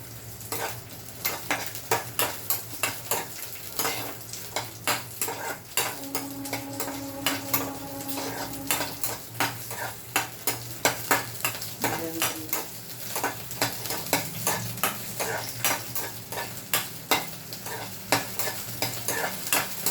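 Ingredients for tamarind chutney stir-fried in a pan on a low gas flame, with a steady run of spoon scrapes and taps against the pan over a soft, continuous sizzle.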